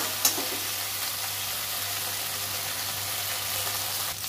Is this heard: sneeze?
no